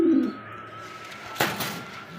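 Pigeons at a pigeon farm give a clear low coo near the start, then quieter coos and faint rustling follow through the rest of the short stretch, with no speech.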